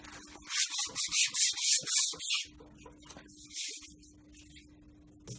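Scrubbing rust off a metal lathe in circular motions: a run of about eight loud, rhythmic abrasive rubs up close, then quieter intermittent scraping over a steady low hum.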